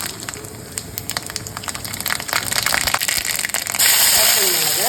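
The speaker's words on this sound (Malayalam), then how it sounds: "അപ്പൊ കടുക് ചേർക്കാം." Mustard seeds crackle in hot oil while tempering a ripe banana and pineapple buttermilk curry, a loud dense burst of popping that settles into a steady frying hiss.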